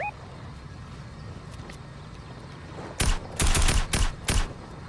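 Gunfire in the battle royale game Fortnite: after a quiet lull, a close, loud cluster of rapid shots in several quick bursts near the end.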